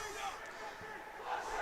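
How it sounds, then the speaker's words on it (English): A crowd at a roller hockey game between the Rinx and the NYC Skyliners cheers in a brief, distant, steady wash of noise in an arena. "You can hear the crowd now. They are thrilled."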